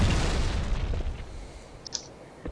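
Grenade explosions in a shooter video game: a dense, rumbling low blast dominates the opening second, then fades into a decaying tail with a few small pops and clicks near the end.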